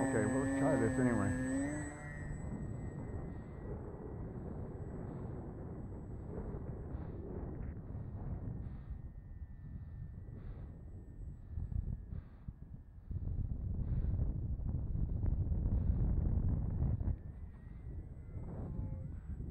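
A WMPF Quasar XL RC plane on a 4S motor runs its propeller at full power: a steady, close motor and prop drone with a faint high whine, surging louder in the later seconds.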